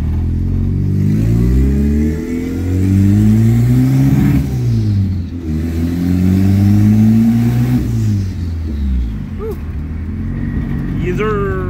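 A car engine revs and idles up and down close by, with rising and falling pitch as it drives slowly, then a faint squeak at the end.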